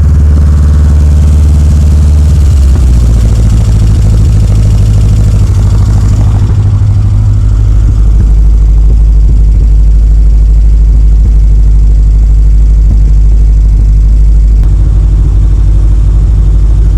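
Hillman car engine idling, a loud, steady, low rumbling drone that holds throughout with a slight drop in revs early on.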